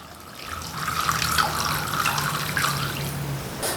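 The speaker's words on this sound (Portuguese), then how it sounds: "Vou cobrir com água." Tap water runs steadily into a pot holding half a kilo of cubed potatoes, filling it with an even rushing splash that lasts throughout, close by and fairly quiet, with no talk.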